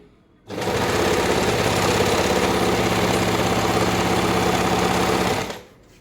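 An Usha Janome Stitch Queen sewing machine stitches a fall onto a saree, running steadily and loudly for about five seconds with a fast rhythmic clatter, then stopping. No one speaks.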